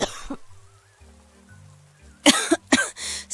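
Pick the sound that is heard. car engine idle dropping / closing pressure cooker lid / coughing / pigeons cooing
coughing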